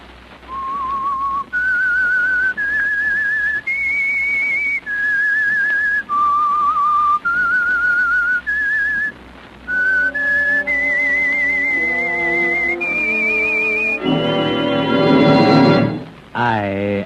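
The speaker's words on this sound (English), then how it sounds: "That whistle is your signal for the Signal Oil Program," Whistled theme signal of The Whistler, a radio mystery program sponsored by Signal Oil: a lone, clear whistled melody of sustained stepping notes, joined near the end by a swelling orchestral chord.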